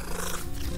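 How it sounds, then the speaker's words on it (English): A cat purrs steadily and close in a hidden-object adventure game, Tree of Dreams, a continuous low rumbling with no talking. "Hey, little kitty cat."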